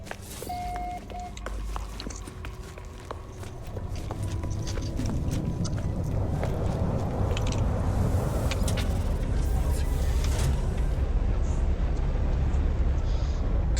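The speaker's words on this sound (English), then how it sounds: "Weather warning. Incoming storm." Storm weather in No Man's Sky builds into a steady, loud roar of wind and rumble with scattered crackles and clicks, growing denser and heavier as it goes and continuing without a break.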